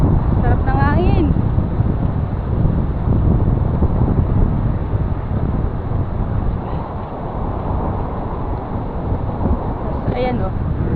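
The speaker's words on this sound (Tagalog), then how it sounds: "Sarap ng hangin." Seaside wind rushes and buffets against the microphone in a continuous loud roar, with a few faint voices and bird-like chirps briefly audible underneath.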